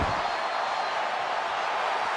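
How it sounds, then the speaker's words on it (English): A steady, dense crowd roar fills the arena of the WWE 2K22 wrestling video game, loud and unbroken throughout without distinct peaks. "The sound of this crowd is deafening"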